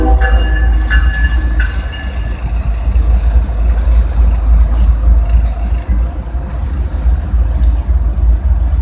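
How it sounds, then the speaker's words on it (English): A loud train rumbles past nearby with a constant heavy low roar and clattering wheels, steady for the whole stretch. "here goes this train"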